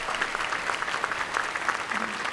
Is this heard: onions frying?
no